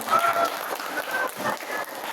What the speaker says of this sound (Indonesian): Yuk kita sambut dengan antusias dan tepuk tangan yang meriah